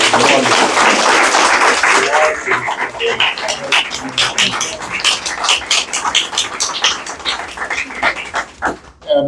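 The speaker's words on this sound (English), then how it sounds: "please give a round of applause for our wonderful." A live audience applauds at a community media event, dense clapping at first, then thinning into scattered individual claps as it fades.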